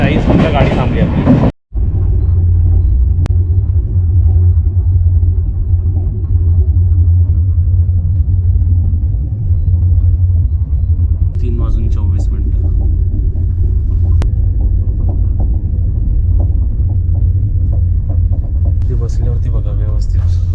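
Inside a first-class cabin of the Mandovi Express, the train rumbles in a deep, constant roar with a short drop near the start and faint clatter later, close and loud throughout.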